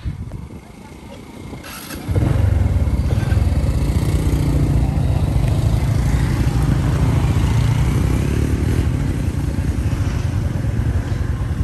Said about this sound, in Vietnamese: mọi người phải đi xe máy, di chuyển bằng xe máy.